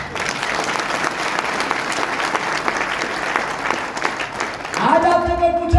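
Audience applause during a motivational speech, a dense, sustained burst of clapping from a large crowd that fades near the end as a microphone rumble and tone cut in.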